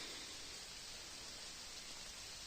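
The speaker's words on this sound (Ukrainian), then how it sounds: "Дощик посилюється." Rain falling in a Carpathian mountain forest, a dense steady hiss of drops with no breaks, fairly faint and uniform.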